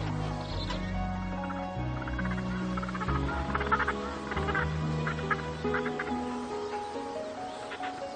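Penguins in Antarctica call in a noisy colony, a dense overlapping chorus of nasal, honking brays that carries on without a break.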